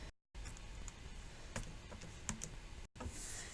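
Numbers are tapped into a calculator in a quick string of light plastic clicks with short pauses, close and quiet, with no talk.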